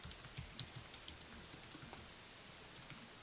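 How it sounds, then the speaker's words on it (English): Quiet, rapid key taps come from an Apple iPad Keyboard Dock physical keyboard, an uneven run of soft clicks heard close up with nobody speaking. "So now I can type on my physical keypad"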